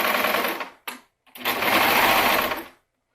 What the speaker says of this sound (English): I am going to let the serger trim off a little bit